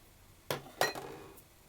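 Yogurt cake batter being mixed with all-purpose flour and baking powder in a bowl, heard as two faint, quick clinks of a utensil against the bowl, then a softer tap, in a quiet room.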